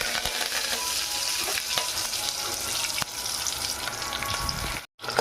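Curry leaves sizzle and crackle steadily in hot oil with cumin and mustard seeds, a loud, continuous frying hiss close by with no one speaking, cut by a brief silent gap near the end.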